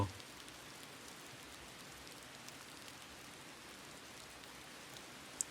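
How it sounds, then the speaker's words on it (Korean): Heavy rain falls in a steady, even hiss of countless drops, moderately quiet and unbroken, with a faint tap near the end. "아, 비 엄청 오네"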